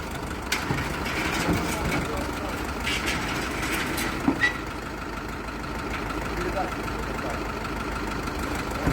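A mid-pitched engine of a 50-horsepower LOVOL 504 mini tractor idles steadily and continuously, with a few faint knocks and clanks over the low rumble.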